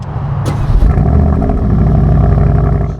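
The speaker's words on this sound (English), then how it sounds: "let's turn this 2025 Aston Martin Vantage on" A 2025 Aston Martin Vantage starting up, its engine firing with a sharp catch and settling into a loud, deep, sustained exhaust roar close by that holds steady before cutting off at the end.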